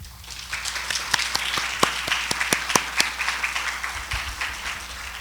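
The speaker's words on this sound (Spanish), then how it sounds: "a quien les pido que recibamos con un fuerte aplauso" A modest audience at a lecture on Gulf of Mexico whales and dolphins applauds to welcome a speaker, scattered individual claps standing out sharply at moderate volume.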